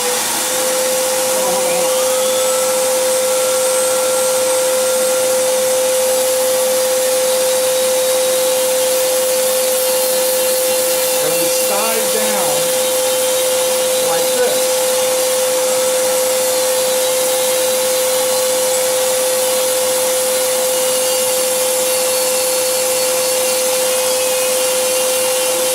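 A $49 vacuum and a Dremel rotary tool run together while leather is skived for a barrel bag, giving a continuous loud motorized whine with a steady tone and brief grinding shifts.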